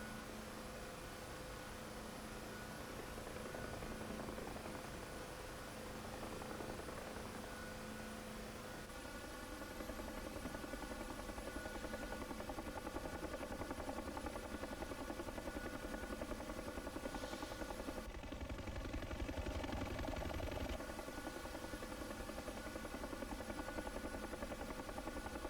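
Bell UH-1 Huey helicopter cold start in the DCS World flight simulator: a steady whining turbine hum with tonal harmonics that thickens and rises as the engine spools up, continuous and loud throughout.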